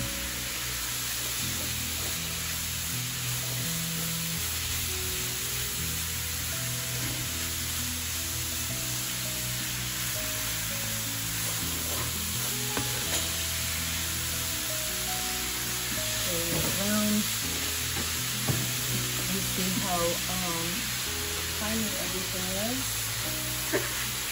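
Food sizzles steadily in olive oil over high heat while artichokes and mushrooms are prepared, a constant frying hiss throughout with scattered clinks and stirring, and a voice speaking faintly in the background.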